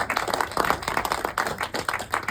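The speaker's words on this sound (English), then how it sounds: "I think we need to give Stephen a round of applause for that." Short applause at a chiropractic clinic re-launch in Tasmania, a small group clapping unevenly for a couple of seconds, close and moderately loud.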